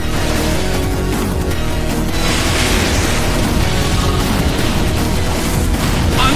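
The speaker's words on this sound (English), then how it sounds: "Annihilated by explosion." Pokémon's Explosion move detonating during a battle in Pokémon Battle Revolution's Colosseum: a loud, dense roar of blast and rumble that fills the whole stretch without letting up, with no one talking.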